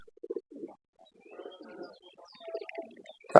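Soft, low pigeon coos come in short throaty bursts, close by, with a few faint chirps from other birds in the background.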